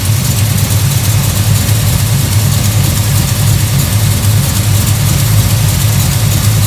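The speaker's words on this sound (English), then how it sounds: "I am hearing a tick. I'm assuming it's a header gasket leaking." An idling 1973 Dodge Swinger V8 with a suspected leaking header gasket, a loud, steady low rumble with a faint ticking running through it, close up and unbroken, with nobody talking.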